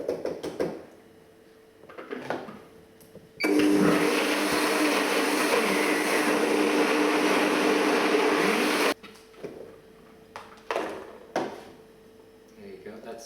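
A blender whirs loudly and steadily for about five seconds as it blends a healthy cheesecake mixture, with quieter kitchen clatter and brief talk before and after.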